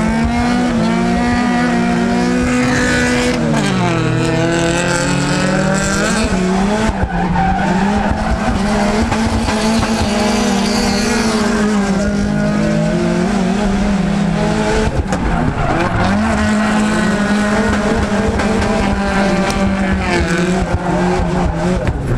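Drift car running 15 psi of boost, engine roaring loud and close with wheels spinning and tires squealing, the pitch rising and falling through repeated revs and skids for over twenty seconds.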